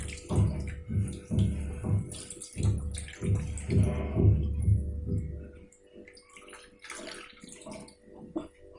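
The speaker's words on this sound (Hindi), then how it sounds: "तो इसी तरीके से मैं इसमें से सारा पानी निकाल लेती हूँ।" Water runs and splashes as grated pulp for Chhattisgarh rakhiya badi is squeezed and drained by hand, coming in repeated rhythmic pulses for several seconds before tapering to quieter drips and trickles.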